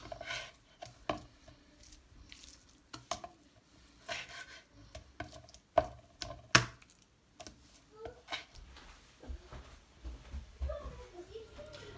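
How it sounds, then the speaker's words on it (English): Meat being sliced with a knife on a board for Nigerian suya: irregular sharp knocks and cuts, some loud and close, scattered across the clip with quiet gaps and a voice talking in between. "First you have to slice the meat."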